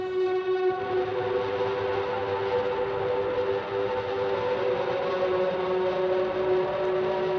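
A droning synth patch, Aeolian Storm from the Legibit plugin, holds a steady, sustained wash of layered harmonic tones that swells slightly but never breaks, alone and continuous throughout.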